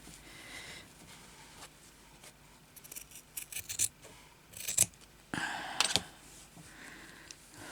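Scissors cutting fabric for a crazy patchwork bag, with a few separate close snips and rustles that build into a denser run of cuts near the end, over quiet background and no talk.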